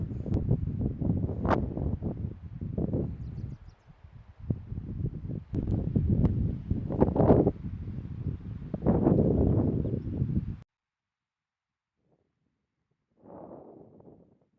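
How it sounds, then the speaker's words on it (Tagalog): Wind gusts buffet the microphone at a campsite, a loud low rumble that rises and falls for about ten seconds, then drops to near silence before a brief final gust. No voices are heard. "Medyo mahangin siya guys, pero goods lang."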